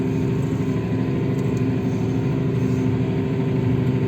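A Massey Ferguson 7716S tractor plowing a field, its engine holding a steady, loud mid-pitched drone at constant revs throughout with no pauses.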